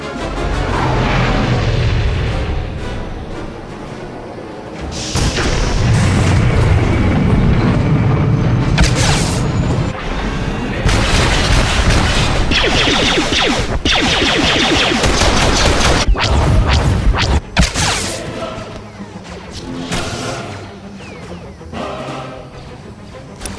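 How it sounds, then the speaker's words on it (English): Enemy artillery pounding a shipyard in a Star Wars: The Old Republic flashpoint, loud booming blasts and rattling blaster fire in dense bursts, with crashes and a sharp impact near the end. "Enemy artillery incoming!"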